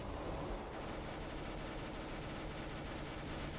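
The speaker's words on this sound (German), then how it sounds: "Schießen da wie bescheuert" Rapid, dense automatic gunfire from Counter-Strike: Global Offensive, a continuous loud clatter of overlapping shots filling the whole stretch without pause.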